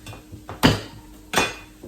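Garlic cloves smashed on a kitchen counter: two sharp, heavy thumps about three-quarters of a second apart, close and loud, with quiet kitchen ambience between them.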